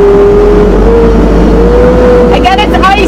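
The amphibious FAT Truck's engine running in low gear with tires set to mud on ice, a loud steady drone with a faint rising tone, overlaid by someone talking toward the end.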